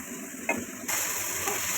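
Boiled water spinach (kolmi shak) fries in a pan with a steady close sizzle and hiss, a brief stirring clatter, then a louder, fuller sizzle that holds to the end.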